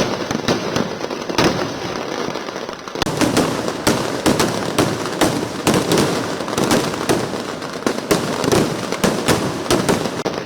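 Thrissur Pooram sample fireworks display with aerial shells and ground bursts: a dense, continuous barrage of loud booming explosions and crackling pops, overlapping in rapid irregular succession for the whole stretch, with no talk.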